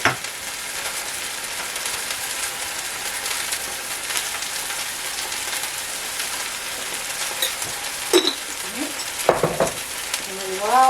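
Roast beef seared in a pan, salt-and-pepper side down, giving a steady close sizzle throughout with a few sharper clinks and scrapes of utensils near the end.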